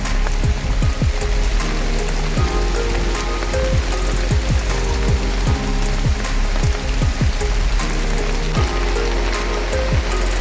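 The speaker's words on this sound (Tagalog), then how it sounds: "Ito po ay malakas ng ulan." Heavy rain pouring outdoors in Sarangani Province near chili pepper plants, a loud steady hiss of drops striking surfaces with irregular heavier splats throughout, no voices.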